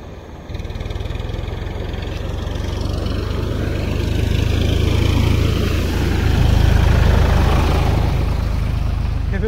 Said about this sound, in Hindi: ट्रैक्टर गुटे आउछे देखो